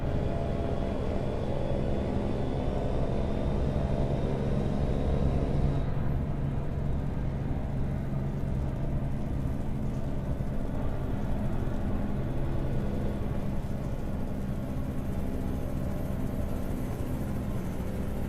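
Steady engine drone with a rotor-like rumble from a helicopter passing overhead in American Truck Simulator near Twin Falls, continuous and fairly loud throughout with no talking.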